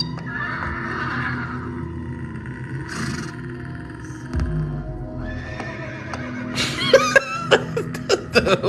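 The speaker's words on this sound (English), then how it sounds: "The horse is neighing." A horse whinnies and neighs against a steady low background, with clip-clop hoof sounds joining it. A burst of high, wavering neighs comes near the end.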